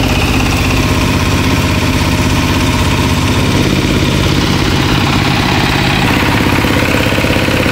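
A Denyo D-250A welding generator driven by a 26 HP diesel engine runs steadily, a loud, close, continuous rumbling drone with vibration and no break.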